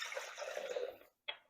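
Warm water for focaccia dough pours in a brief, soft splashing stream that stops abruptly, followed by a single faint splash.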